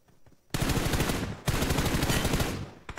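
Rapid bursts of automatic fire from an M rifle in PUBG Mobile, two loud sustained volleys of quick gunshots separated by a short pause, starting after a near-silent moment.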